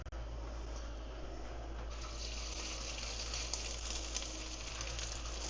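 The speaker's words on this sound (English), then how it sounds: "this pan with the frying of the meatballs" Steady sizzle of meatballs frying in a hot pan, a continuous broadband hiss that brightens after a couple of seconds, with no voices.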